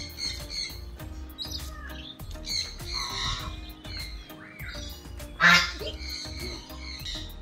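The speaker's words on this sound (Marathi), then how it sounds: "मस्त की ब्लॅक आणि व्हाईट कलरचे बदक आहेत।" Black-and-white ducks quack in short bursts amid a busy, noisy outdoor scene, with one louder burst of calls standing out near the end.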